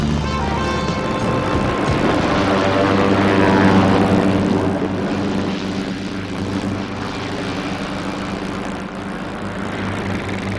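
A steady, loud, droning engine of a helicopter flying over the Amazon forest, humming continuously and close for the whole stretch with no voices.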